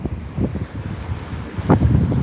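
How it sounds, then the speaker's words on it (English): Gusty wind buffets the microphone with low rumbling bursts while walking outdoors in Coolock, Dublin, loud and close, with no one speaking. "it's very windy."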